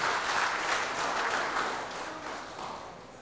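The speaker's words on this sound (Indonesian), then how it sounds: "Tepuk tangan untuk Pak Jeffrey sama Syuli." Applause from an audience for Pak Jeffrey and Syuli, a dense spell of clapping that starts strong and slowly thins out over a few seconds, with no voices on top.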